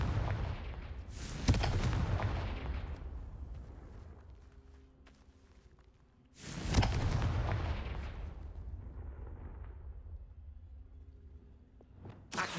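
Confringo blasting spells in the video game Hogwarts Legacy: two loud, booming explosions about five seconds apart, each decaying into a long rumbling tail.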